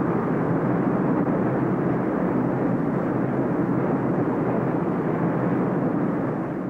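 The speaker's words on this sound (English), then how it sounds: "multi-engine jet, such as this United States Air Force KC-10 tanker" A United States Air Force KC-10 multi-engine jet tanker gives off a steady, broad roar that holds at even loudness and eases slightly at the end, with no voices.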